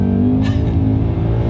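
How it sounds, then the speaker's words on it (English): 2019 Ford Mustang GT with a 10-speed transmission, its engine revving hard under load as the tyres struggle for traction, a loud, steady low rumble close by with no break. "that is the car begging for traction"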